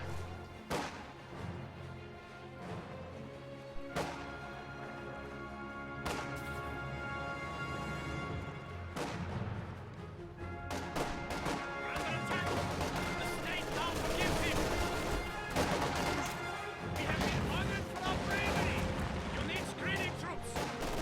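Machine gun and field gun fire from a World War II real-time strategy game, including an MG42 crewed by Penal Battalions: dense bursts of gunfire and heavy booming shots layered over a busy battle mix, growing louder and more continuous toward the end.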